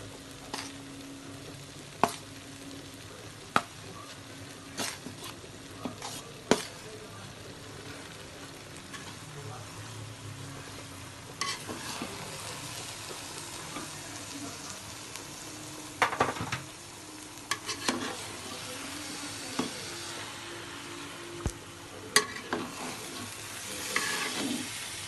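Khoya cut into small pieces is stirred into carrot halwa frying in a pan, giving a steady sizzle with scraping spoon strokes and occasional clinks against the pot. No one speaks.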